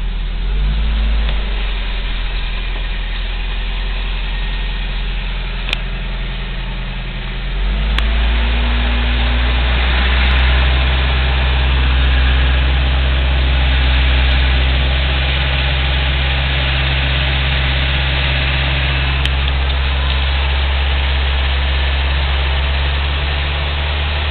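A car engine with an aftermarket cam idles steadily with a deep, rumbling low end, shifting slightly in pitch a few seconds in, then holding a constant drone.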